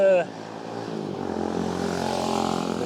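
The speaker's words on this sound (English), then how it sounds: "noisy motorbike" A loud engine drone swells and passes close by, a motorbike roaring down Dickson Road in Blackpool, with a brief voice at the very start.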